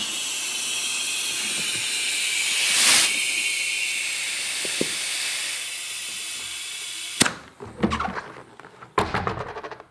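Air hissing steadily as a pump inflates a bicycle tire through a Presta-to-Schrader valve adapter on a fat bike, a long close hiss, then a few sharp clicks and rattling handling sounds near the end.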